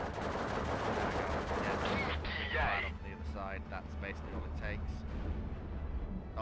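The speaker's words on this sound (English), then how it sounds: "Artillery continuing to open up on them" Artillery barrages and gunfire from the Steel Division 2 Karelia campaign rumble continuously under a man's speech, with dense low booms and crackling shots filling the whole stretch.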